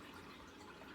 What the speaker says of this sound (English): So you can hear that trickling, trickling, trickling, trickling.